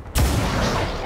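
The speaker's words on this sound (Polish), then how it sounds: "Strzał z pistoletu tutaj albo w Archona." A pistol shot fired in the video game XCOM 2: War of the Chosen, one loud, sharp blast with a booming low end that rings out and lingers for about a second.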